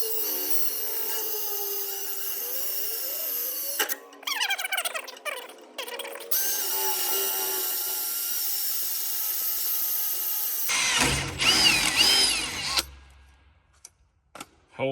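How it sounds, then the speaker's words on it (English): A power drill bores a hole during a custom build, whirring in short high-pitched bursts that rise and stop, with rattling and handling noise between runs close by. "we're gonna drill this hole here"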